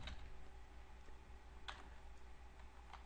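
Quiet typing on a computer keyboard, a few soft scattered clicks with a sharper keystroke cluster in the middle and another near the end, over a steady low hum.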